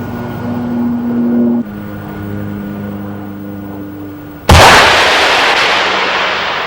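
Artillery fires at a towed sleeve target, with one sudden loud blast that rings out over a low engine drone and steady mechanical hum.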